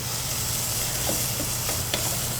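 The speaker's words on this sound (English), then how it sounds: "you just want to lightly saute it" A Spanish onion sautés gently over medium-low heat, giving a constant close hiss and soft sizzle with a low hum underneath and a few faint clicks of stirring.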